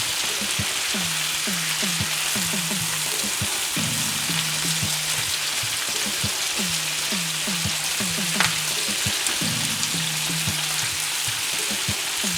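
Onions and peppers fry in oil in a home kitchen pan, giving a steady, dense sizzle and crackle throughout, with a few scraping stirs and a lower rumble underneath.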